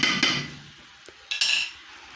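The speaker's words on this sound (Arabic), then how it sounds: "on va rajouter les haricots et on va mélanger notre ingrédient" Couscous ingredients and beans are stirred together in a bowl, with a few sharp utensil clinks and scrapes in short bursts separated by quieter gaps, close and clear.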